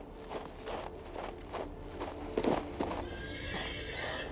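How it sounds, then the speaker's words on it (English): A horse whinnies over a soft run of clip-clopping hooves, followed by a brief mechanical click, all fairly close and moderate in level, in the video game King's Bounty 2. "we got an amazing horse"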